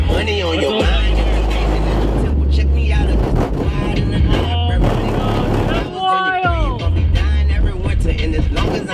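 Deep car subwoofer bass thumps from a BMW, heard from outside the car: loud booming low pulses with a brief break near the middle, while voices talk over it.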